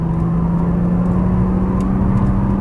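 A Nissan GT-R accelerating out of a corner on a race track, its engine holding a steady, loud mid-pitched drone with a whirring tone, close and continuous with no talk over it.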